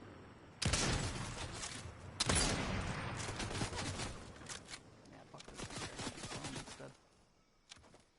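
Fortnite gunfire: bursts of rapid shots and loud cracks in a video game, several clusters of firing spread across the clip with quieter gaps, a voice faintly underneath.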